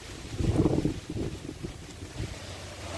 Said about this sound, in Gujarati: કેવો પવન છે